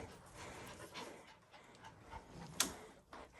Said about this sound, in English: these dogs, they're in and out like nobody's business this morning